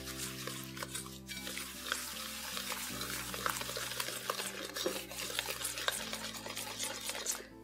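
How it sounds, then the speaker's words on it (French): Vegan hazelnut muffin batter is mixed in a bowl with almond milk, making quiet, continuous wet stirring and scraping strokes over a low steady hum. "Donc je vais le verser un petit peu et je vais commencer à mélanger"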